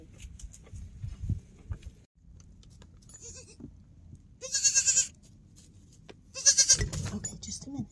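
Mother and baby goats bleat loudly in two long wavering calls close by, over steady rustling and low background noise on a farm.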